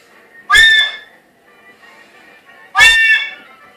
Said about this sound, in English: Your Polar Express whistle.